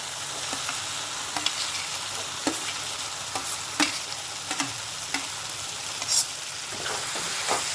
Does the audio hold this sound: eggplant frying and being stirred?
yes